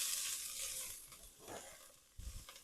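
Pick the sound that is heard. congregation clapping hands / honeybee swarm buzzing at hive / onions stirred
onions stirred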